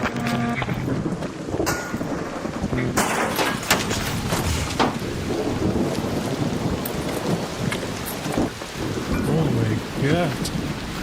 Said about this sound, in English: electromagnetic storm is currently raging over topside. Beware the lightning strikes if you're outdoors.